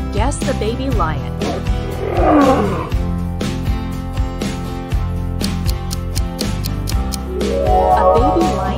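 A lion roars twice over steady background music, each roar a deep, rough growl swelling and fading, with the second near the end.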